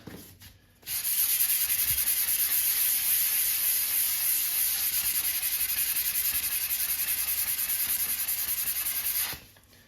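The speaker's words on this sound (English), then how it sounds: "then we're going to use the sanding pad" Steady abrasive rubbing hiss of a sanding pad worked against ceramic tile over a filled drill hole, starting abruptly and continuing evenly for several seconds before stopping.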